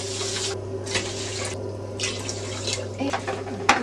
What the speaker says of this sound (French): Donc ça va nous emmener à mettre 4 verres d'eau.